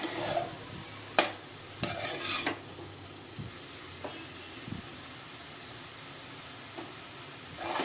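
Grated carrot roasting in ghee in a pan for carrot halwa, with a soft, low sizzle under a few sharp clanks and scrapes of a spoon stirring against the metal.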